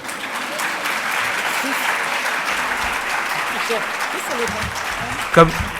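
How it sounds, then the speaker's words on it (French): Audience applause in a hall at a conference, a steady wash of many hands clapping at moderate loudness throughout, with one brief louder knock near the end. "Peut-être on peut l'applaudir tout de suite, ce sera fait."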